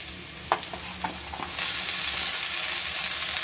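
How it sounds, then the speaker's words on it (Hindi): Raw washed rice tipped into a pan of frying potatoes for lemon pulao, a few light clinks and stirs giving way to a steady, close hiss of sizzling oil. "अब इसमें मैं चावल डाल दूंगी।"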